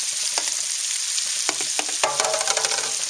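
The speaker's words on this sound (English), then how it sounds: "Then add your cut up green onions." Cut green onions fry in a wok with a dense, steady sizzle and crackle, with occasional scraping stirs through it, while preparing a Norwegian casserole.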